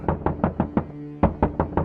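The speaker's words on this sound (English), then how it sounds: "there came the knocking at my bedroom door" Frantic knocking on a bedroom door: two rapid bursts of loud, close raps, four knocks each, separated by a brief pause, with nothing else in the background.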